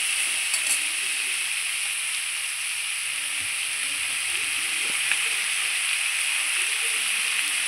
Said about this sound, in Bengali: সবজিটা একটু ভাজা ভাজা হয়ে গেছে